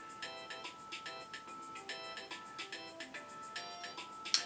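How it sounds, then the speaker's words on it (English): An iPhone ringtone plays a bright, repeating melodic pattern of short chiming tones, clear and fairly quiet, with no talk over it. "Definitely one of the more underrated iPhone ringtones in my opinion."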